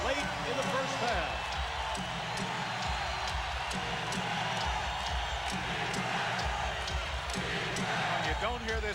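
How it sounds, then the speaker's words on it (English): A loud arena crowd at the Omni roars through an NBA playoff game between the Hawks and Pacers, with sneakers squeaking and a ball bouncing nearby as a commentator talks over the steady noise. "You don't hear this crowd at the Omni very often, but they're very loud right now"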